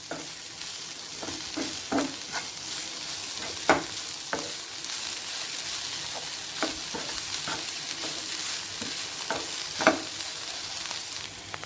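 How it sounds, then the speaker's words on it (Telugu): Cabbage frying in a covered pan makes a soft, even sizzle with scattered sharp ticks and crackles, close but fairly quiet, and no voices. "బాగా కలుపుకొని మళ్ళీ ఒకసారి మూత పెట్టి ఒక రెండు నిమిషాలు వేయించుకోవాలి"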